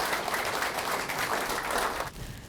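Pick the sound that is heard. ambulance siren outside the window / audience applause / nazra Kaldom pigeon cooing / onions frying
audience applause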